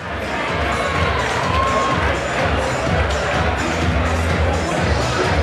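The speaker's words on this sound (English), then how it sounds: "There's a massive round of applause for the team, ladies and gentlemen." Loud, steady crowd cheering and applause fill an amateur boxing venue after the Mitch Allen versus Pete Mulvey bout, a continuous roar with scattered shouts throughout.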